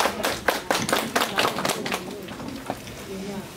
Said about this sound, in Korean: 정민영 선생님께 다시 한번 큰 박수 부탁드리겠습니다